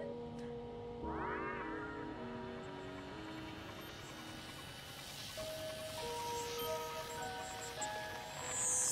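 A cat's meow from the video game Stray rises briefly over steady game music and ambient hum, one short call near the start with the score continuing underneath.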